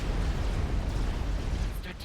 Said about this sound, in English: there was a nuclear explosion happening in here, as the ACU belonging to Farmsletje